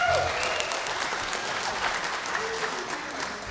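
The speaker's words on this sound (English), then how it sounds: "Give her a big round of applause." Concert audience applauding the lead singer at a Christmas church concert, with steady, dense clapping from a crowd filling the space, moderately loud and continuous throughout.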